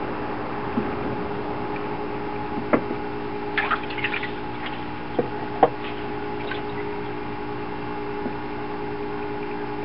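Faint trickling and occasional drips of water in a fish tank with rocks, over a steady electrical hum, with a few small splashes and clicks scattered through.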